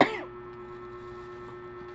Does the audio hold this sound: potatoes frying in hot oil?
no